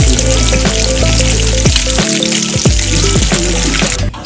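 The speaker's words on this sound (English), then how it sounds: "So the fish is frying." Loud, steady sizzling of fish frying in hot oil, crackling and spitting continuously up close, with no talking.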